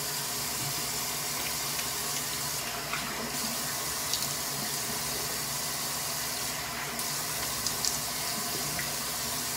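A bathroom tap runs steadily while shaving soap is rinsed off a face, a constant close rush of water with faint splashes and small knocks throughout, and no talking.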